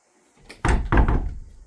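A heavy wooden door on a handbuilt log cabin swings shut, landing in two close, solid thumps with a short low rumble after, loud and near, with no voices over it.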